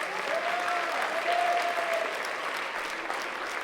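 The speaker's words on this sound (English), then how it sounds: "makeup designer along with Karen Westfall, so applause to them." Steady audience applause at a community theater production of The Sound of Music, sustained crowd clapping for several seconds with a faint whistle over it.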